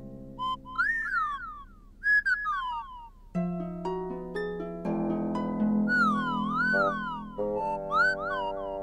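Whistling music trees from the Clangers cartoon give off sliding, warbling whistled tones that rise and fall in short phrases, joined later by steadier layered tones. The sounds come close and clear, and nobody talks.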